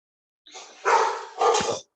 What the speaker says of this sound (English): Sorry about the dog barking. He was barking at nothing.